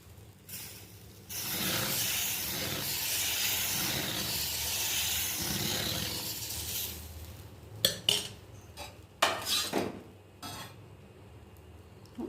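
Fermented millet dosa batter is mixed in a vessel, a thick wet swishing churn for several seconds, then a string of louder clinks and knocks against the pot, close by.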